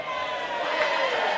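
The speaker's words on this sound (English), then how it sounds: "And a cheer from the Greece supporters as Alex Zarunas finds touch" Greek supporters at an Emerging Nations World Cup rugby match against Hungary raise a broad, steady cheer from the stands, a continuous crowd roar with no single voice standing out.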